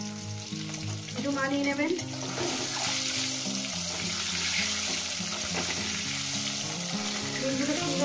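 Eggs frying in a pan for a spicy egg curry (dim kosha): a strong, continuous sizzle throughout, with brief speech and background music over it.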